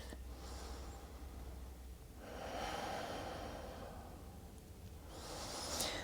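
Yoga instructor breathing through a half moon pose, a slow, soft inhale followed by a longer audible exhale and another breath, quiet and close, with no speech.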